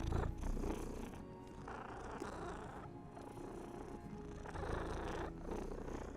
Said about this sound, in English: Look at those cute purrs.